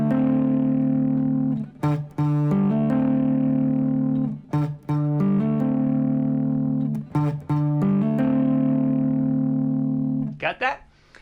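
An electric guitar with overdrive plays a song's main riff: a low, sustained repeating figure with short percussive string hits between phrases, loud and close, with no talking.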